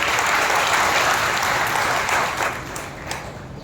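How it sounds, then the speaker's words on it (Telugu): A church congregation at a Sunday worship service in Nellore claps loudly and continuously, a dense wash of applause that tapers slightly toward the end. "బిగ్గరగా చప్పట్లు కొట్టి ప్రభువును మహిమపరచండి"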